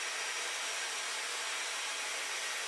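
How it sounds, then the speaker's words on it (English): A handheld blow dryer drying natural hair while styling a wet look, giving a steady, even airflow roar with no break, close up and fairly quiet, with no talking over it. "Now what we're gonna do is get the blow dryer."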